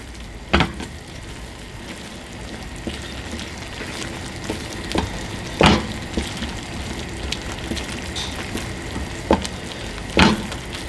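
Egg frying in a hot pan with vegetables and cheese for Turkish menemen: a steady soft sizzle runs throughout, with a few sharp scrapes or taps of a utensil at intervals and no one speaking.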